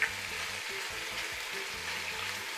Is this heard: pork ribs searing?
yes